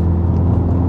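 A tuned MK7 Golf R with a big turbo and DSG gearbox gives a loud, close engine rumble with a quick, snappy gearshift that barely breaks the steady low drone.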